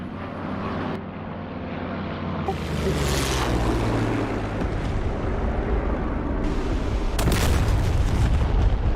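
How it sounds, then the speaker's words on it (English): Scud missiles landing and exploding behind the player in a combat flight-sim game, heavy rumbling blasts and roaring jet-like noise layered over continuous engine drone, with sudden bursts of hiss. "the scuds are landing behind me, and they're a bit like a puff of someone vaping"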